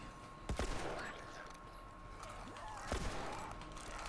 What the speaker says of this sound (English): Shot that guy like 4 times.